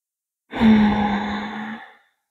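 A single deep, voiced exhale during a yoga session, a long audible sigh that starts abruptly, holds steady for over a second and fades out, close and clear against silence.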